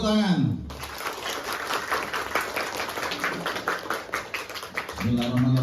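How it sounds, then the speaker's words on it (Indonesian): Applause from a state elementary school audience at a Ramadan festival in Indonesia, a dense burst of hand clapping that swells and fades, with a voice speaking into a microphone before and after it. "Tepuk tangan."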